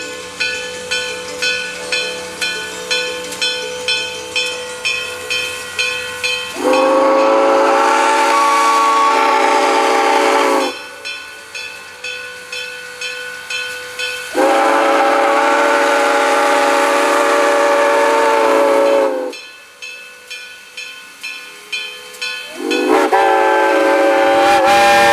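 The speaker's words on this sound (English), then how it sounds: "Speed restrictions across the switches mean that the train will crawl through town" A steam locomotive, Great Smoky Mountains Railroad 1702, chugs with sharp rhythmic exhaust beats, broken by several long, loud whistle blasts; close and powerful, with no talking.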